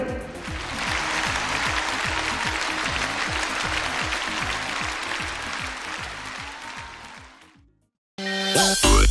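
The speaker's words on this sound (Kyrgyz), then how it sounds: "Анда эмесе дүңгүрөтө кол чабуулар." An audience at an aytysh, a Kyrgyz improvised poetry contest, claps loudly and steadily for about seven seconds before the sound cuts off abruptly.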